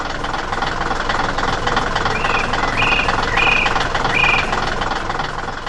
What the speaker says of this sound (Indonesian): sebuah alat bore spiral sedang bekerja keras di tengah batu dan tanah